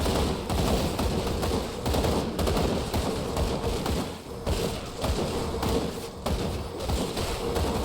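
Gunfire from a defensive gun build in the action RPG Grim Dawn, rapid repeated thudding shots in dense bursts with short gaps, loud and continuous throughout.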